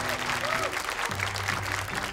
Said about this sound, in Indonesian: Boleh tepuk tangan untuk 13 anak yang tersisa.